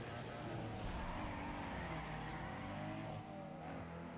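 Drag race cars run in Need for Speed Underground 2: engines roar steadily at high revs with tire squeal and shifting pitch, continuous and fairly quiet.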